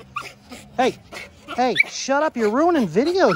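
A small dog whines and yips in rising, wavering cries, loud and close, while someone talks over it.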